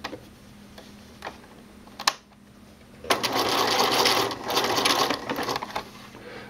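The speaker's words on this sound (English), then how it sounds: "baste the edges together up here" A sewing machine basting the edges of a tank top binding starts with a few scattered clicks and ticks, then runs in a close, steady whirring burst for a couple of seconds before slowing.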